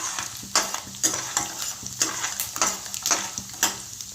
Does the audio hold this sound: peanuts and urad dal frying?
yes